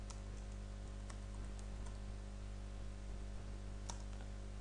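Sparse, soft clicks of typing on a computer keyboard while entering an SQL statement, faint and somewhat distant over a constant low electrical hum.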